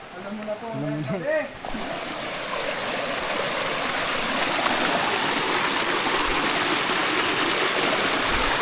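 Clear stream water rushing and splashing over rocks, a steady broadband flow that fills the scene after a brief moment of voices at the start.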